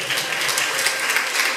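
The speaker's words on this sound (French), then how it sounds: "On l'applaudit s'il vous plaît." Applause for a young woman graduating in pediatrics at a graduation ceremony: steady, dense clapping from a crowd, loud and continuous without a break.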